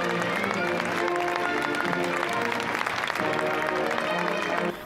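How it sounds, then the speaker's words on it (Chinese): An audience packed onto the open-air steps of the Paris Opera house claps vigorously in sustained, dense applause, with music faintly audible underneath. "台下挤满了观众热烈鼓掌"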